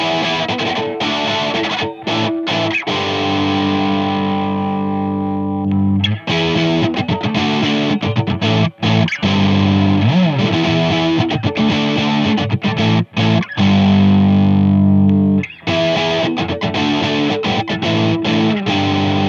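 Vintage electric guitar through a Ratstar distortion pedal chugs and rings out in loud, gritty chords, with short stops between bursts and a raw, fuzzy sustain.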